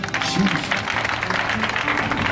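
Church congregation applauding during a Sunday worship service, a steady wash of clapping with crowd noise and a voice speaking over it, continuous and moderately loud throughout.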